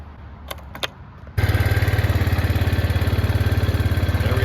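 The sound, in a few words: Arctic Cat 400 4x4 ATV engine running after starter solenoid change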